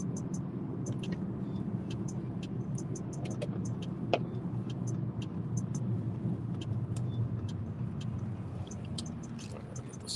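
A car with salt on it is driven along, its low engine rumble and road noise steady and close throughout, with light ticks and clicks scattered overhead and a single sharp knock partway.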